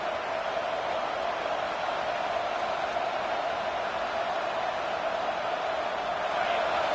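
A football stadium crowd roars loudly and steadily throughout, a dense sustained wall of noise from the home fans rising slightly toward the end.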